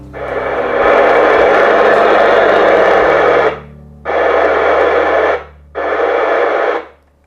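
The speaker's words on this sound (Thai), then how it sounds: "เราก็จะได้ยินเสียงที่ดังออกมาจากลำโพงของตัว TS50 นะครับ" Loud FM hiss pours from the speaker of a Kenwood TS-50 radio repaired with new capacitors, in three bursts: one long stretch, then two shorter ones separated by brief quiet gaps.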